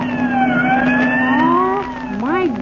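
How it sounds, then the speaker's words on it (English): Police car sirens from a vintage radio comedy's sound effects, a wavering, wailing tone that sustains and then sweeps up and down near the end, loud and close, with no talking over it. "There have been sirens going past here all afternoon."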